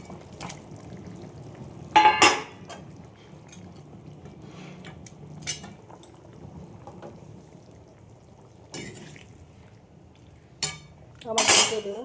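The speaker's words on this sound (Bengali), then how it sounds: "দেখো এবার মাছগুলো দিয়ে দেবো এর মধ্যে।" Pieces of boal fish go into a cooking pan as a few short bursts of clatter and hiss over a quiet kitchen background, with scattered light clinks of utensils in between.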